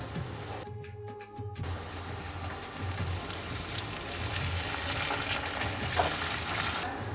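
Chopped onion with a spoonful of ginger-garlic paste sizzles and fries steadily in a pan, a continuous crackling hiss that swells slightly as it cooks, with a brief stirring break near the start.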